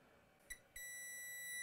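A multimeter set to diode mode beeps with a steady continuity tone while probing the DC-in line of a shorted Dell Alienware gaming laptop board, a short blip first and then a sustained high tone, alone and fairly quiet.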